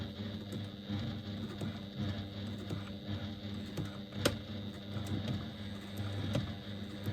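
A sewing machine stitching a lambda weave bag runs in a steady, close mechanical chatter, with small clicks and one sharp tick partway through, and no voices.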